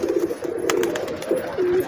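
A Sina pigeon gives a soft, low cooing call nearby, a few short warbling phrases in quick succession, alone without any talking.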